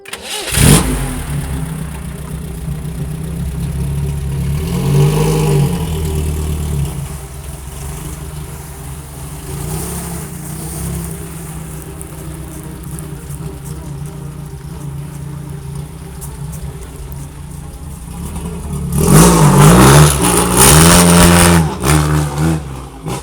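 A car engine turns over and catches, idling with a low steady rumble before revving up loudly toward the end, no voices present.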